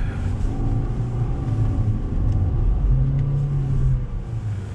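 A 2020 LADA Vesta SW Cross with an automated manual gearbox drives off-road through deep snow, its engine giving a steady, close, loud low rumble and drone throughout with no voices.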